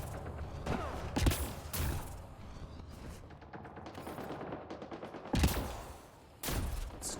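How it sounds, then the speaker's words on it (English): Gunfire in the video game Mass Effect Andromeda, with several loud bursts of shots and scattered rattling volleys, mid-distance, over a constant low mechanical background hum. "Also hear a bunch of gunfire."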